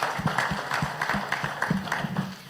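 An audience claps for panelists and a moderator at an e-commerce business panel, a steady patter of many hands at moderate distance, continuous and fairly even in level.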